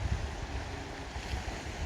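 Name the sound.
ocean waves and wind on the Shetland coast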